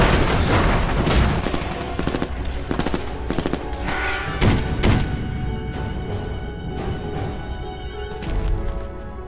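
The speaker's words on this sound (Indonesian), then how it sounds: "Disinilah baku tembak besar terjadi" Dense film gunfire during a big shootout in a giant spider movie, rapid overlapping bursts and booms, loud and sustained throughout.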